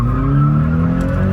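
Toyota GT86 tyres skidding through a drift, a loud sustained squeal riding over the steady engine drone, close and continuous for a moment.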